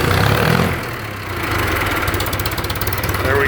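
A 1966 John Deere tractor, being revived after twenty years unused, runs with a rough, pulsing engine note that dips briefly then settles into a steady loud idle close by, with no talking.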